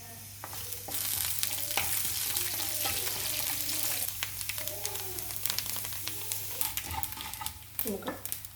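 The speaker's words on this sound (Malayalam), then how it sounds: "വെളിച്ചെണ്ണ ഒഴിക്കാം. കടുകിടാം." Mustard seeds and small rice grains fry in hot coconut oil for a thoran, giving a loud, steady close-up sizzle with scattered sharp pops and crackles.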